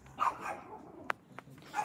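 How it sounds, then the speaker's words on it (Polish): A pet dog at home makes a few short barks and yips, with one sharp close bark standing out amid quieter whimpering sounds across a brief stretch. "Oto mój pies."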